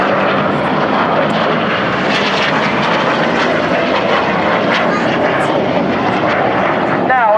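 RAF Hawk T Mk2 advanced jet trainers fly over the Bournemouth Air Festival, a loud continuous engine roar across the whole stretch with a commentator talking over it.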